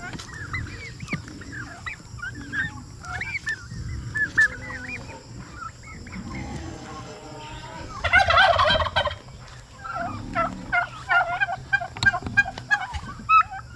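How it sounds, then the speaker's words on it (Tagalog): Several male turkeys gobble in repeated bubbling bursts, some close and loud, others farther off, with scattered honks mixed in throughout. "Kunti na yung pabo natin dito na lalaki."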